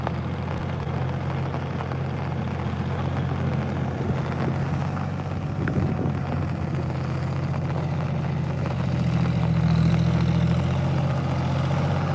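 A tractor engine runs nearby during heavy rain at a Telangana rice-transplanting field, a steady low droning rumble that swells slightly toward the end, heard with no talk.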